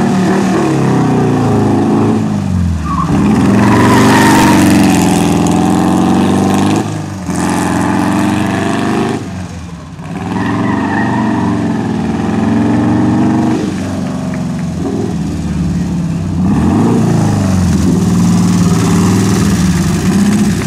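VW Buggy Apal classic car engine running loud and close at a classic and sports car meet as it is driven out, idling with rough revs and brief dips in throttle.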